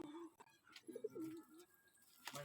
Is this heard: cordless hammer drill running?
no